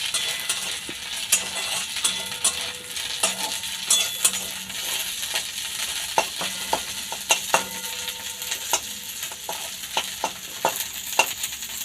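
Neem leaves frying in a little oil in a wok while being stirred, a constant crackling sizzle punctuated by frequent sharp scrapes and taps of the spatula against the metal.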